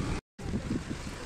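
A boat moves across water near Puttaparthi, heard as a low rumbling rush mixed with wind buffeting the microphone, cut by a brief dropout near the start.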